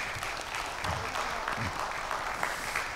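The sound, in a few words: audience applause after academic presentation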